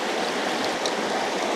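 Clear blue river water rushes and flows steadily at a campsite, a continuous close wash of sound with no talk.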